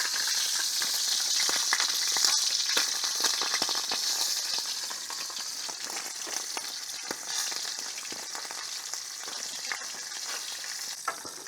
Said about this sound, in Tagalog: Mainit na po yung mantika. Ilalagyan na po natin si pampano.